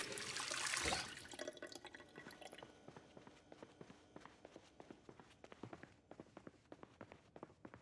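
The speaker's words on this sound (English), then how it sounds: "Refill our water bottle too." A water bottle is refilled from a tap in the Project Zomboid video game: a brief loud splash up front, then a run of quick, sharp drips and small taps ticking steadily to the end, with no talking.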